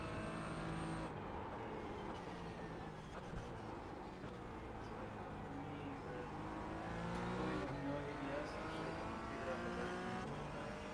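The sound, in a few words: Porsche 718 race car engine in iRacing video game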